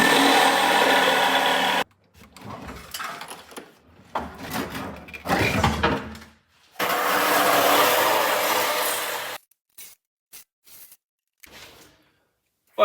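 A power tool cuts rusty sheet metal on a Chevette car body, loud sustained grinding bursts separated by pauses and shorter intermittent cuts, close up with no talk.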